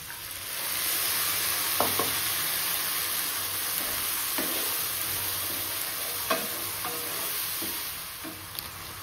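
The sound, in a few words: frying onions with spice masala in a pan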